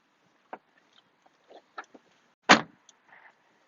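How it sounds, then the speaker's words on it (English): People climbing out of a car on a city tour in Samara, with scattered door and body thumps, then one loud slam in the middle and a few soft clicks afterward, otherwise quiet. "Okay, now we are getting out of the car."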